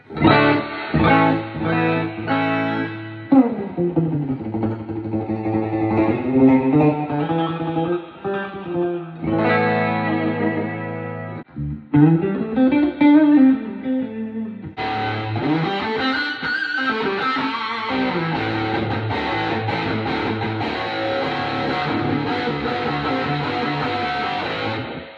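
Electric guitar played through a Fender Hot Rod Deville 410 amp, chords and bends ringing out with a heavy reverb wash and slight grit, loud and close, no voices.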